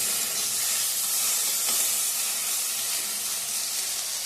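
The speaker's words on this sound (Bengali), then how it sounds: "ভেন্ডি ভাজাটা বসিয়ে দিয়েছি" Sliced okra (bhindi) fries in a pan with a steady, bright hiss of sizzling oil that holds evenly from start to finish, close and unbroken.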